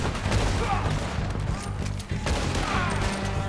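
Rifle fire in the Red Dead Redemption 2 video game during hunting and outlaw fights, several sharp gunshot cracks spread across the clip over low rumbling game audio and background sound.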